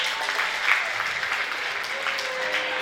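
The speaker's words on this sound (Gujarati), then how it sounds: "હર્ષવર્ધનભાઈને તાળીઓથી વધાવીએ." Steady, full applause from an audience at a school annual function in Amreli, a continuous wash of clapping hands at even loudness with faint voices underneath.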